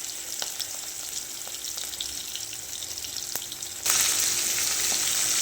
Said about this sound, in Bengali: মাছ আমার এক পিঠ ভাজা হয়ে গেছে